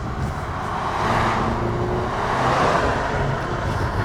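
A Jeep Renegade 2.0 AWD SUV with a 170-horsepower diesel engine cruises on the road, giving a steady, moderate hum of engine and road noise that swells gently and then eases, with no voices.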